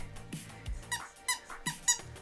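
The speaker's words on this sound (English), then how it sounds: "a squeaky toy." A squeaky heart-shaped dog chew toy squeaks several times in short, sharp bursts, close and fairly loud, with no talking over it.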